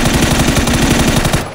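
Sustained machine gun fire from a video game hammers in a fast, even rhythm, loud and close, cutting off abruptly at the end.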